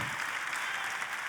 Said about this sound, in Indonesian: Boleh saya dengar tepuk tangan yang paling meriah dari tempat ini?